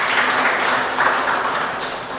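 Audience applause at a ceremony honoring an absent mentor, a steady, dense wash of many hands clapping throughout, moderately loud and continuous.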